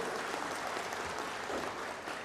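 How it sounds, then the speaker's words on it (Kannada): Audience applause at a university agricultural fair, steady and dense crowd clapping without a break, moderately loud and filling the whole moment. "ಒಂದು ಜೋರಾದ ಚಪ್ಪಾಳೆಯೊಂದಿಗೆ ನಮ್ಮ ಅಭಿನಂದನೆಗಳನ್ನು ಸಲ್ಲಿಸೋಣ"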